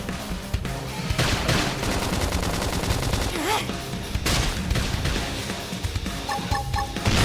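Dense, rapid gunfire in a Xenoblade Chronicles X video game rattles continuously in loud bursts amid chaotic game action, with brief electronic tones near the end.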